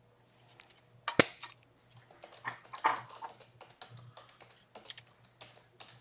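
Cutters snip titanium wire for earwires in a single sharp, loud click, surrounded by softer scattered clicks and rustles of handling the springy wire at close range.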